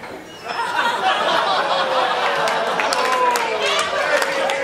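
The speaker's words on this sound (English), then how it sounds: "Thank you for the guys that are clapping." Comedy club audience applauding a stand-up act, a steady wash of clapping mixed with cheering and laughter that swells shortly after the start and holds loud to the end.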